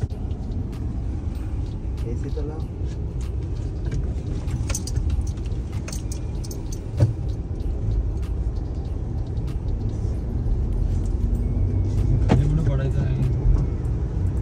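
Car driving through Bangkok traffic, a steady low engine and road rumble running throughout with occasional small rattles, while people talk inside the vehicle.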